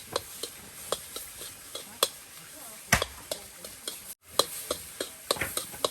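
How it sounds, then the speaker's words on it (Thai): Crackling sizzle of an omelette frying in a hot pan, with sharp pops and ticks scattered throughout, fairly close and steady for several seconds. "ไข่เจียวไปแล้วนะ"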